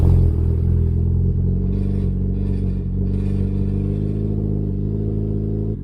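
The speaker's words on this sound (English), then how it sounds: "let's start it up. I'm just gonna let it idle" A turbocharged Toyota Corolla engine rumbles at a steady idle close by, a low continuous hum with faint clattering on top.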